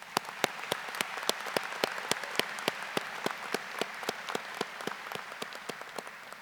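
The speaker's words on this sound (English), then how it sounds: "Get a round of applause for Dr." Crowd applause at a high school graduation ceremony, a steady wash of many hands clapping with sharp individual claps standing out, sustained and fairly loud throughout without talk.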